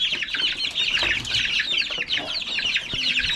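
A group of one-month-old chicks peeps continuously in a dense, high, overlapping chorus, close and fairly loud, with faint shuffling and rustling underneath.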